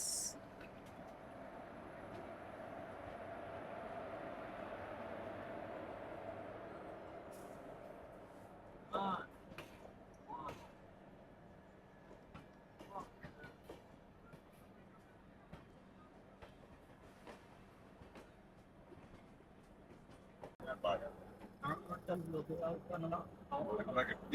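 A North East Express train runs steadily as heard from inside a 2AC coach, a soft continuous rumble and hiss with scattered clicks and knocks, while people talk quietly now and then.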